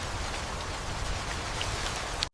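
Heavy rain pouring during a storm, a dense, even hiss of drops that continues steadily and loud before cutting off abruptly at the end.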